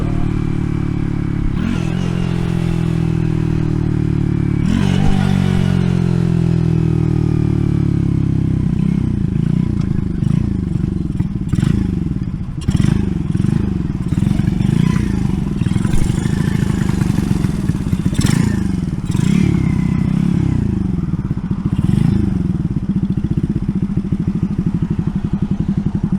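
An RPS Racer 140 motorcycle engine fitted with a new stainless exhaust runs loud and close, with a couple of early revs and then a steady, slightly uneven low idle continuing alone throughout.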